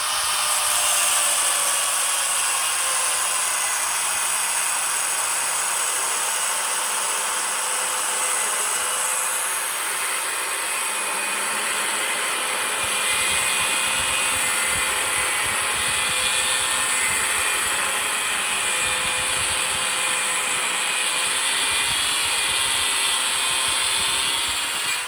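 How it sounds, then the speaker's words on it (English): A handheld angle grinder slowly cuts through a metal piece clamped on a bench for a homemade tire bead breaker, a loud, steady, high-pitched whine and grinding roar holding throughout with no talking. "put the grinder on top and slowly cut this down"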